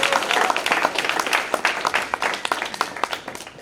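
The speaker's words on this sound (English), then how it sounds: "Please give him a great round of applause" A showcase crowd claps for a departing presenter, a full round of applause with distinct individual claps standing out, loud at first and thinning slightly toward the end.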